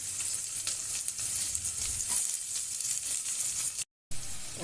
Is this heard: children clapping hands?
no